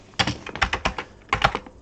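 Typing on a computer keyboard, a quick run of distinct clacking keystrokes in two bursts, close and fairly loud with no voices over it.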